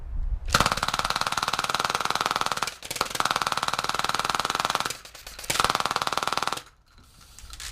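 A mini HPA-converted Boomco MA5 foam blaster fires in rapid full-auto bursts, loud and close, three long rattling strings of shots separated by brief pauses, with no talk.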